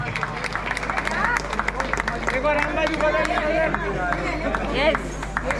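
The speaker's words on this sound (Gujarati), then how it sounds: "જોરદાર તાળીઓના નાદથી વધાવી લેજો" An audience at a community gathering applauds to honour a leader, giving a dense, steady patter of many hands clapping close by, with crowd murmur and voices mixed in throughout.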